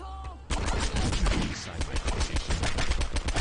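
Rapid bursts of automatic gunfire from the video game Postal 2, loud and continuous after a brief quieter opening, with dense repeated shots filling the clip.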